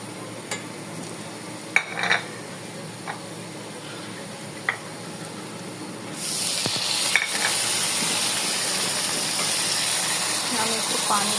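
Spices go into onions frying in a pan until reddish, with light stirring taps at first, then a loud, steady sizzle that takes over halfway through and continues to the end.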